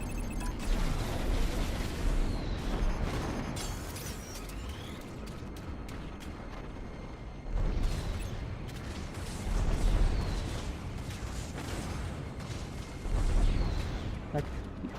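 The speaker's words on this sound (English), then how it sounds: "Let's get a missile barrage off on this guy." Missile barrage fired in the space combat game Strike Suit Zero, a rolling run of deep booms and rumbling blasts in bursts over continuous engine and battle noise.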